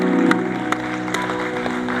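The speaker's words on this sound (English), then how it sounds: "Let's give the American volunteers a round of applause." A crowd at an Independence Day ceremony claps steadily for American volunteers, a dense, moderately loud wash of applause with a few sharper claps standing out over a low background tone.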